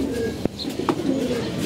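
Domestic pigeons kept at home cooing softly nearby, low repeated calls with a couple of sharp clicks and flutters in between.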